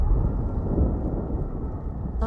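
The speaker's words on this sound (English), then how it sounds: "Sounds like a storm." A steady rolling rumble of storm thunder with rain hiss in an Elder Scrolls Online game scene, loud and continuous, with no voices over it.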